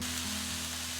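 Chopped mushrooms and vegetables frying in olive oil in a pan, giving a steady, close sizzle with a low electrical hum and no talking.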